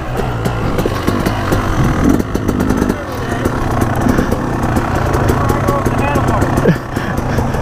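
A motorbike engine runs steadily close by at the top of a steep 100-foot dirt hill, a continuous rumbling drone with slight revving swells, while people talk over it.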